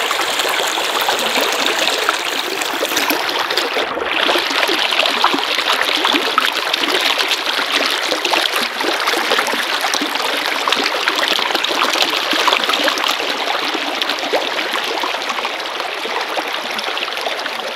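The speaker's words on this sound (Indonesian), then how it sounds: "setelah mendengar suara relaksasi gemericik air di bebatuan" Water trickles and babbles steadily over rocks in a stream, a continuous close splashing wash with a brief dip partway through, no voices.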